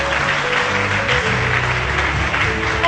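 A church congregation claps steadily and loudly together in acclaim of Jesus, a dense sustained applause filling the room.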